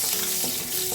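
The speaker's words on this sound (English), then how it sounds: "To the leftover oil, we are going to add the chopped garlic," Chopped garlic frying in leftover oil in a pan, a soft steady sizzle with faint stirring, close and quiet, no talking.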